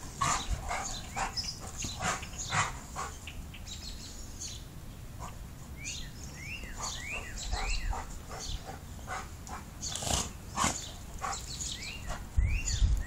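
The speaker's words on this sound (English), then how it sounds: "stop barking." A dog barks repeatedly in sharp bursts, fairly close, with birds chirping in the background between barks.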